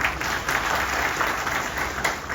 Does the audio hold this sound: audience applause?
yes